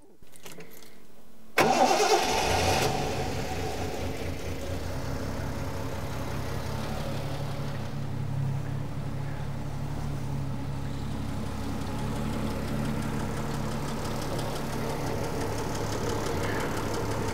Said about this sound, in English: So I'll start the engine up now.